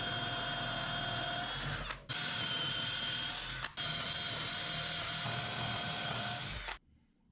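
An electric drill bores holes in wooden table legs for a Mission style dining table, a loud steady high whine running in three long bursts with brief dips between, then stopping abruptly.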